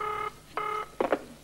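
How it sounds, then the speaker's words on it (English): Touch-tone telephone dialing beeps from 1987, heard as steady two-tone bursts: one long tone, a pause, a second long tone, then two quick short beeps, all close and clear with no talking. "can we dial it again?"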